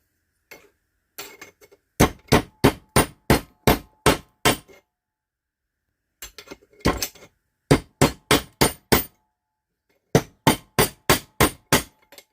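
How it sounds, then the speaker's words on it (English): Sheet metal on a Jeep TJ rear sill is hammered in three quick bursts of sharp, ringing blows, about six to eight strikes each, separated by short pauses. "Maybe just hammer it out a little bit."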